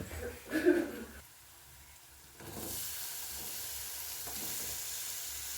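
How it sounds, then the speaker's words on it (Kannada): Cut cucumber pieces frying in hot oil in a pan, a brief louder clatter as they go in, then a quieter pause, followed by a steady close hiss and sizzle with faint stirring. "ಈ ಸೌತೆಕಾಯಿನೂ ಎಣ್ಣೆ ಒಳಗೆ ಚಲೋತ್ನಿಗೆ ಫ್ರೈ ಮಾಡ್ಕೋಬೇಕು ನೋಡ್ರಿ."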